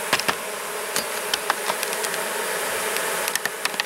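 Honeybees swarm around an opened hive, a dense, steady buzz close by, with individual bees zipping past the microphone in brief, louder passes.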